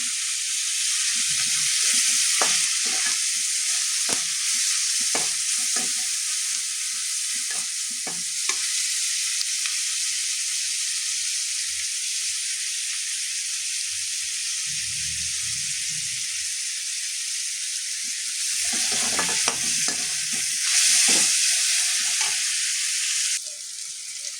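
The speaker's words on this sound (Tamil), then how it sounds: "ஓகே ஃப்ரெண்ட்ஸ், வெங்காயம் வதங்கிட்டு இருக்கு." Onions fry in oil in a pan for a goat boti fry, a steady close hiss of sizzling that runs throughout, broken by occasional stirring scrapes and clicks, with no voices.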